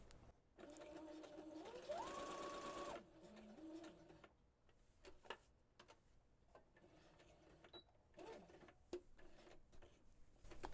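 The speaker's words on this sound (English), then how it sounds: "Thank you, Mr. Sewing Machine." A sewing machine runs in quick rhythmic bursts of stitching, stopping and starting, with a faint bird cooing in the background.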